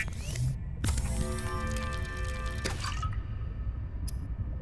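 A Subnautica Below Zero fabricator turns a bladderfish into a bottle of water in the video game, with a whirring mechanical hum, layered tonal chimes and bubbly liquid drips, ending in a brief bright ping.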